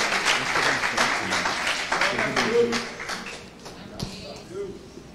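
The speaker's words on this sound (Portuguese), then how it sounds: "aplaudindo ao Senhor em nome de Jesus" A church congregation claps and cheers in praise, with the applause loudest at first and tapering off while voices continue underneath.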